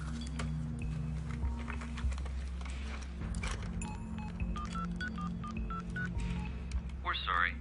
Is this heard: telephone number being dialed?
yes